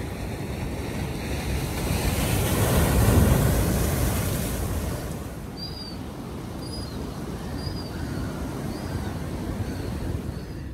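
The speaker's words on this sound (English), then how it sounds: "the waves are rolling quite well" Ocean waves roll in at the St Clair saltwater pool before sunrise. A broad surf wash swells to a peak near the start and then settles, with wind buffeting the microphone throughout and no voices.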